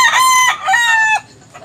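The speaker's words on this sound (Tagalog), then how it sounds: "Gwapo manok pa idol" A rooster at a cockfighting gamefowl market in Tabunok, Cebu crows once, loud and close, a strained drawn-out call with a short break midway.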